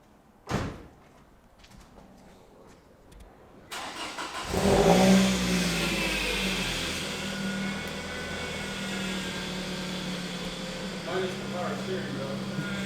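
A Honda S2000 sits in a shop: a sharp door thud comes first, then the engine fires up and revs, settling into a throaty mid-pitched idle with small blips of throttle, while people talk nearby.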